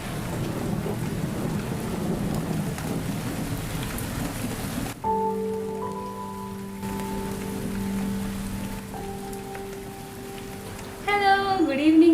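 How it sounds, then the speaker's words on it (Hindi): Evening rain falls as a dense, steady patter for about five seconds, then a quieter stretch follows with sustained humming tones and a brief warbling sound at the end. "जैसे कि आप लोगों ने देखा अभी जो है बारिश स्टार्ट हो गई है"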